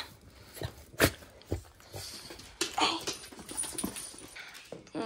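A pet dog whimpers and whines in short bursts in a Paris flat in the morning, close by, with someone talking over it.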